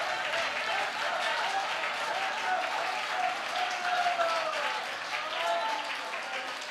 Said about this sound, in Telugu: గట్టిగా చప్పట్లు కొడుతూ స్తోత్రం చెప్దాం